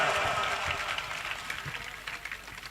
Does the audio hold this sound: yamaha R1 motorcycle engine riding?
no